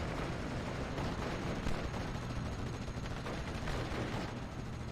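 Gunfire from the WWII strategy game Steel Division: Normandy 44, a dense, muffled wash of distant shots and rumbling battle noise held low and steady throughout.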